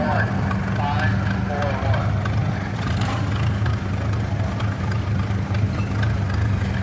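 A 1940 Farmall Model A tractor engine runs at an antique tractor pull. It gives a steady, continuous low rumble with an even throb throughout, loud and close.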